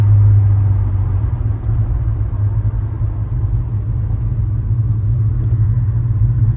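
A 1956 Chevrolet Bel Air with a tri-power small block V8 and 700R4 overdrive cruising, its engine giving a loud, steady low rumble heard from inside the car with no talking.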